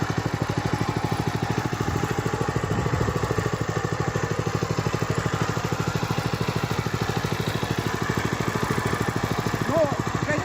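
A small motor cultivator fitted with a hiller works garden soil, its engine running loud and close with a steady rapid chugging throughout, and brief voices faintly audible over it.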